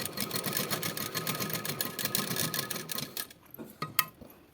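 A sewing machine runs in a steady rapid whir while stitching a neck design, the motor chatter continuing for about three seconds before stopping, leaving a few faint clicks of handling.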